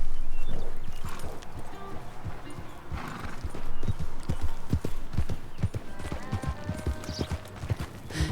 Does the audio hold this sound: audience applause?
no